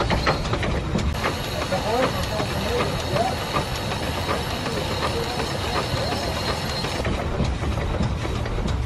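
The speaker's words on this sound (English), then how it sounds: "This is called rolling the engine over." A steam traction engine being rolled over chugs steadily with continuous hiss and rhythmic mechanical clatter, loud and close, running throughout without a break.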